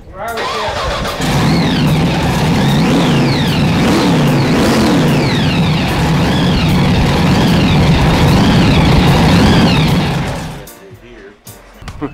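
A Boyd's custom-built racing engine roars loud and close, holding a strong, rising and falling rev for about ten seconds before cutting out, with voices faintly audible.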